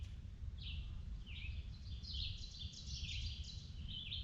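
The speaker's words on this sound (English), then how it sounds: "Okay. It's peaceful. Birds are singing, sun's shining." Birds sing faintly along the Appalachian Trail, several short high chirping phrases repeating over a low, steady rumble of outdoor background noise.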